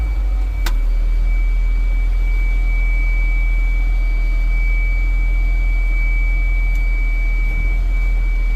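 A continuous high-pitched warning beep from a tractor, sounding as its locking pins are unlocked, sounds steadily over the low rumble of the idling engine.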